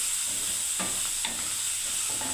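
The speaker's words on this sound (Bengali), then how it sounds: "এদিকে পেঁয়াজটাও ভাজা হচ্ছে" Onions frying in a pan for a poppy-seed dish, with a steady broadband sizzle throughout and a few soft stirring scrapes and clinks.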